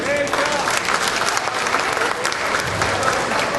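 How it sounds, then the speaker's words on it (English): Steady audience applause at a St. Baldrick's childhood-cancer fundraiser, a dense wash of clapping hands for a hairstylist from a salon, with a few voices murmuring beneath the clapping throughout. "A big round of applause for Chuck."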